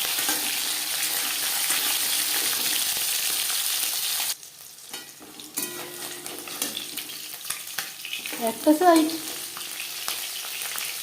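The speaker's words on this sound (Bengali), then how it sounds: "ভাজা হয়ে গেলে অপর সাইডটা উল্টে দেবো জ্যান্ত মাছ আমি একটু হালকা করেই ভেজে নেবো" Live tyangra fish frying lightly in oil: a loud, close, continuous sizzle that abruptly drops to softer crackling and spatters, with a brief spoken remark and occasional utensil clinks.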